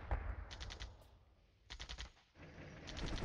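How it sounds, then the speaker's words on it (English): Artillery and tank fire in the wargame Flashpoint Campaigns: Southern Storm, bursts of rapid cracking shots in three clusters with brief lulls between, moderately loud and without talk. "And our artillery strikes. And the tanks strike."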